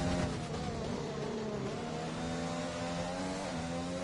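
Ferrari race cars in a racing video game whine steadily at high revs, a sustained layered engine drone of several cars running close together, moderately quiet.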